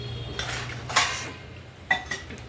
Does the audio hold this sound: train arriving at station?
no